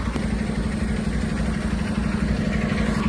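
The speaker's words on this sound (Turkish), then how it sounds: "Otobüs şu an kalkacak arkadaşlar." A bus engine idles steadily before departure at a school trip send-off, a continuous low rumble with a droning hum, loud and close with no clear change in pace.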